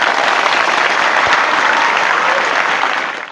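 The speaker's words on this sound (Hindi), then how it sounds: "एक बार ताली भी बजा के दिखा दो" A large audience at a school training camp claps loudly and evenly, a thick sustained roar of hands close by that holds for several seconds before tapering slightly at the end, with no speech over it.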